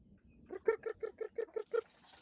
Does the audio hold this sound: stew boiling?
no